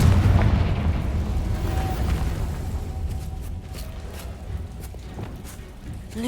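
Confringo fire spell in Hogwarts Legacy bursting with a loud, rumbling boom, its rolling blast and crackle fading across the clip under game ambience.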